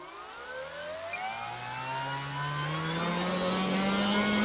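Durafly Tundra V3 RC plane electric motor on 4S power, run at about half throttle: a steady, loud whine whose pitch climbs gradually and holds near the end, with no talk over it.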